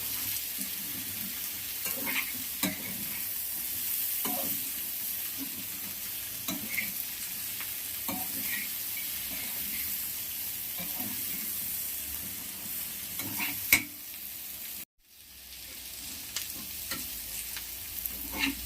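Onions with salt are stirred in a pan, giving a continuous low sizzle dotted with scattered spatula scrapes and taps, near and moderately loud, with a sharper clatter and a brief near-silent break close to the end.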